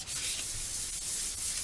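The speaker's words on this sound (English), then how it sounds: "when you sand it, you'll sand off layers of the clay" A polymer clay surface is sanded by hand with sandpaper backed by card, producing a steady, close, soft rasping rub with no one talking.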